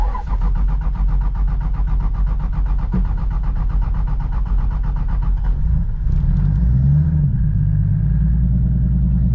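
A tuned 600 whp 1.5JZ engine in a Lexus IS300 rumbles loud and close after a cold start, holding a rough, steady idle with a brief rise around the middle.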